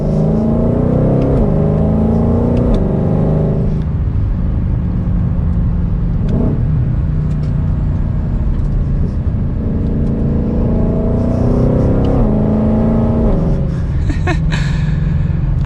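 From inside the cabin, a 2021 Ford Mustang Shelby GT500 in track or sport mode rumbles and accelerates. The engine's pitch climbs in repeated sweeps over a loud, continuous drone, with no talk.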